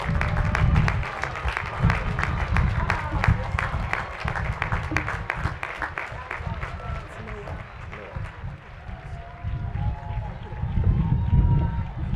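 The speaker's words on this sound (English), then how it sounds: "Let's give them another round of applause." At a university commencement ceremony, an audience gives graduates a long, dense round of applause that swells and dips for several seconds, with a voice speaking over the clapping.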